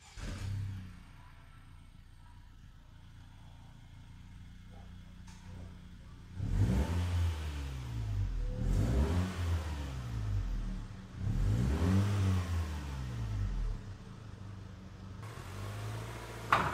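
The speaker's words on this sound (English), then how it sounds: "let's go ahead and listen to how the car sounds stock" A 2017 Honda Civic Sport Hatchback with stock exhaust idling low, then revving up loudly several times in rising and falling sweeps, with a deep rumbling exhaust tone between revs.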